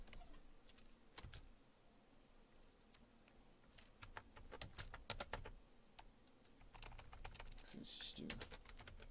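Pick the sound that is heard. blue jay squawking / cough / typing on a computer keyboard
typing on a computer keyboard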